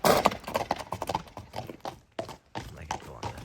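A Kyrgyz horse offered for sale clip-clops in a quick, uneven series of hoof strikes close by, loud and distinct, with someone talking intermittently over the hoofbeats.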